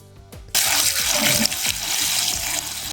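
Water gushes into a bucket as rainwater or aged tap water is poured in to brew homemade fertilizer for tomatoes, peppers and cucumbers; after a brief quiet start, a loud, steady splashing pour begins and fills the rest of the clip.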